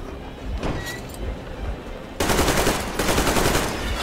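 Rapid automatic gunfire in Metro Exodus, a dense stuttering burst that swells and becomes louder and more continuous partway through, with game ambience beneath and no voices.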